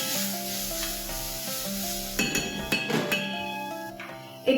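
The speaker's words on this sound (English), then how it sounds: "I'm going to add a teaspoon of garlic paste, a teaspoon of ginger paste, and just let's saute this" Garlic paste and ginger paste sauté in a pan with a steady, close sizzle and a few utensil clinks as they are stirred, over soft background music.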